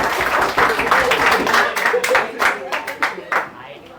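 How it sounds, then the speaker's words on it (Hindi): Students in a JEE maths classroom break into clapping, a loose burst of scattered hand claps that thins into a few separate claps, heard close over the room's ongoing talk. "ताली बजा दो, ताली बजा दो।"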